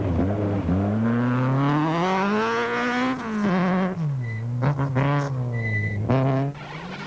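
Sasol dual-fuel Volkswagen Golf rally car racing on a mountain stage, its engine loud and close, revving high through repeated gear changes with pitch swooping up and down and brief lifts between bursts.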